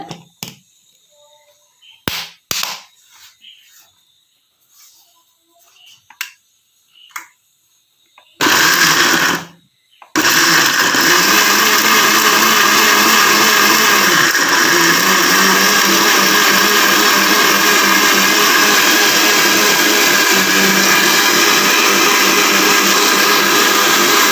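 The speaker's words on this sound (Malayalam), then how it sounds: "ഞാൻ കുറച്ച് വെള്ളം കൂടി ഒഴിച്ചിട്ട് നന്നായിട്ട് അരച്ചെടുക്കാൻ പോവുകയാണ് മിക്സിയിൽ" A kitchen mixer grinder blends spice paste with added water for a roasted-coconut chicken curry, starting with a few short pulses, then running as a loud, steady whirring grind for over ten seconds.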